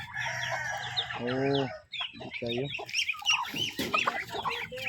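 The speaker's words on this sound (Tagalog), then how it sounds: "naglumlum na yung manok" Chickens, including a brooding hen, cluck repeatedly at close range with some rooster-like calls mixed in, and a person speaks briefly among the birds.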